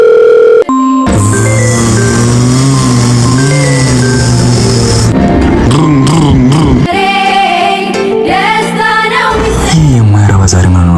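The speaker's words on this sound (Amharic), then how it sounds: "ዛሬ ምን ነው እንደው ስልክ የሚዘጋው?" A telephone call goes unanswered in an Ethiopian drama scene, with a steady ringing or dial tone repeating alongside a musical score that fills the clip, fairly loud throughout.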